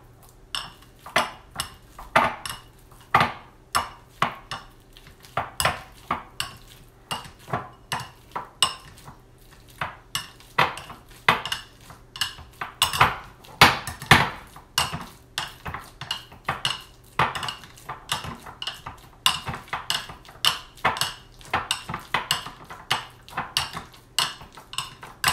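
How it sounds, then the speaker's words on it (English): Ripe bananas being mashed with a tomato masher in a bowl, giving repeated irregular thuds and clinks of metal against the bowl, close and moderately loud, with no talking. "Just use my tomato masher and just mash them."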